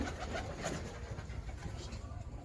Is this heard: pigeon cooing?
yes